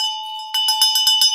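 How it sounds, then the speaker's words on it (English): A metal bell is rung several times in quick succession, bright sustained rings piling up over a steady high tone, loud and close with no talk. "I love this bell."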